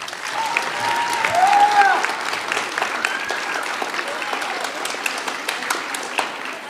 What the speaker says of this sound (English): can we give it a round of applause for everybody here on the stage?